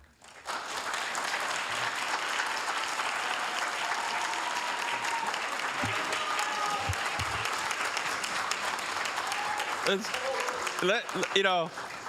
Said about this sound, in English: Let's give another big round of applause for Alley Cats